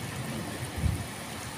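Rain falling in Oman, a steady soft wash of rainfall with a brief low rumble midway, short and without speech.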